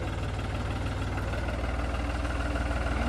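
An International tractor's diesel engine idles close by, a steady low throbbing chug with even rhythmic knocking and a constant mechanical rumble throughout, with no voices over it.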